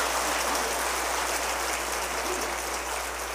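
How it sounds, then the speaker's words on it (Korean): Warm applause from a church congregation during a Sunday service award presentation: steady, dense clapping from many hands that keeps going without a break and fades only slightly toward the end. "뜨거운 박수로 감사하시기 바랍니다."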